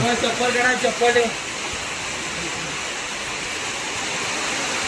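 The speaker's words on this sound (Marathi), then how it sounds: "तर पावसाला देखील सुरुवात झालेली आहे" A steady broadband hiss of rain on the way to Marleshwar fills the scene after a brief spoken phrase at the start, continuous and fairly loud.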